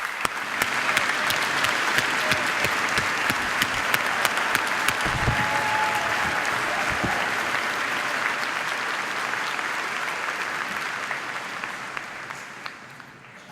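A large crowd at a 2013 high school graduation ceremony gives sustained applause honoring standing District 205 employees, a dense wash of clapping that holds steady for over ten seconds before slowly tapering.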